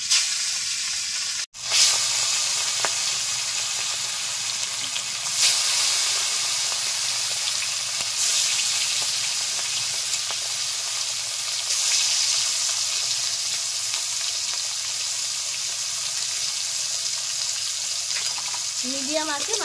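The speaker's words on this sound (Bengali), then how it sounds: "তেল গরম হয়ে গেছে, হলুদ লবণ মেখে রাখা মাছগুলোকে ভেজে নিচ্ছি।" Fish coated in turmeric and salt fry in hot oil, a continuous loud sizzle and hiss that holds steady, broken once near the start by a brief sharp crackle.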